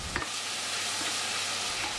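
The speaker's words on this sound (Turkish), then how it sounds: "Kavurmaya devam edelim." Chopped okra with a spoonful of tomato paste sizzles steadily in a pan while being stirred, a continuous loud frying hiss with occasional stirring scrapes.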